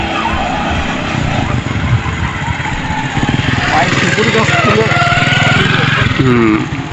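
Motor vehicles travel along a village road in rural Bangladesh, a steady close engine drone with a passing motorcycle-like whine that swells toward the end, heard alone without speech.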